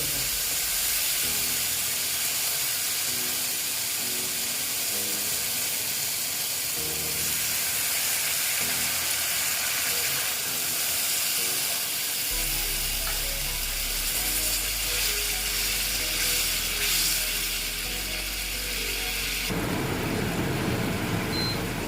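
Water poured into a hot pan of cooking small fish sets off a loud, steady hiss and crackle of sizzling oil, swelling partway through and holding for several seconds, with no talking.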